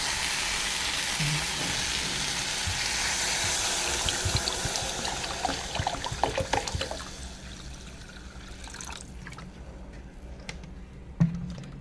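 Water poured into a hot pan of egg curry brings a loud hissing sizzle that gradually settles into quieter bubbling and a few clinks, heard up close.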